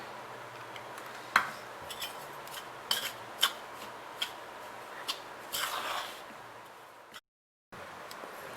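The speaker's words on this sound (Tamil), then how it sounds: "சேர்த்துட்டு இதையும் சேர்த்து நல்லா மிக்ஸ் பண்ணிக்கணும்." A kambu (pearl millet) laddu mixture is stirred with ghee, giving quiet scattered clinks and scrapes of a utensil against a bowl, a few sharper knocks, then a brief drop to silence.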